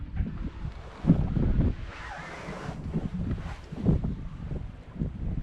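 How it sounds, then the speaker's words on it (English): Cold, gusty wind buffets a sailboat, a steady low rumble of wind noise with flurries of rustle and a brief airy swell in the middle, no voices. "It's pretty cold and windy."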